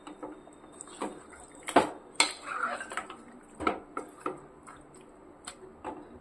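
A spoon clinks and scrapes against a pot while salt is stirred into chicken for a chicken fry, with irregular metallic knocks and softer scraping, close and fairly quiet.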